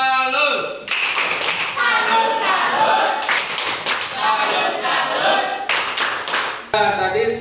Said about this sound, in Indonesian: silakan tepuk tangan. Kita berikan tepuk salut.